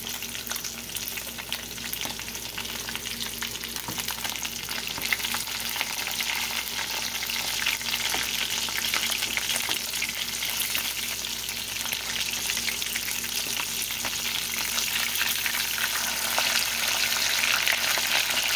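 Fish sizzles and spatters steadily in a hot oil-filled pan, a dense continuous frying hiss that stays loud and close throughout, with faint stirring or water sounds and no talk.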